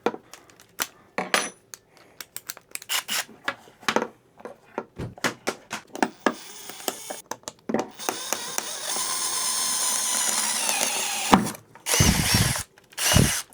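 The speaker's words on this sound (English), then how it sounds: "every time my drill bit gets stuck on the damn rivet" Metal clinks and taps give way to a power drill whining steadily as it grinds into a metal rivet, drilling it out, stopping and restarting in short bursts near the end.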